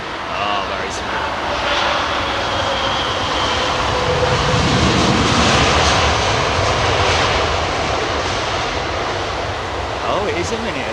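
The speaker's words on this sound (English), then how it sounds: "Oh, nice low departure by Virgin there." A Virgin jet airliner departs Heathrow Airport low overhead, its engine roar building to a loud, sustained rumble that peaks mid-pass and slowly fades, with someone speaking over it.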